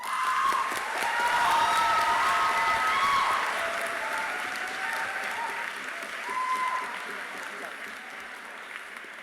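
An audience at a world schools debating championship final applauds after a speech, a dense, sustained wave of clapping that swells early and then eases slightly while staying loud throughout.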